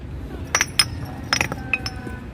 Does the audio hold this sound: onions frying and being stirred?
no